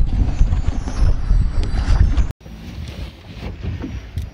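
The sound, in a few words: strong wind blowing into the camera by the water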